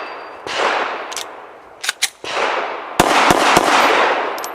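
Sharp, loud gunshots from a Full Conceal M3D folding pistol crack outdoors, a few spaced single shots and then a quick cluster, each followed by a decaying rumble.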